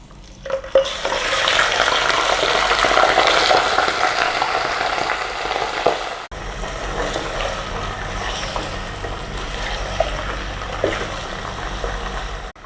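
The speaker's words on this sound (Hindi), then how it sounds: "अब इसमें हम ये लाल खड़ी मिर्च जो है तोड़कर डाल देंगे, और इसके साथ ही इसमें गोश्त डाल देंगे।" Mutton fried in a pan with broken dried whole red chillies makes a loud, continuous crackling sizzle with stirring scrapes, briefly interrupted midway and then resuming slightly quieter, with no talking.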